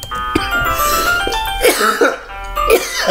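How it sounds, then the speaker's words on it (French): Several harsh, close coughs in quick succession, one person hacking and clearing the throat, with a faint chime in the background. "ça m'a fait tousser"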